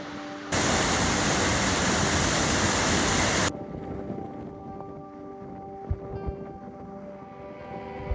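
A waterfall in Iceland roars as a loud, steady broadband rush for about three seconds, then drops away abruptly to a quieter outdoor background.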